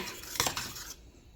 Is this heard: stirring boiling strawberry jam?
yes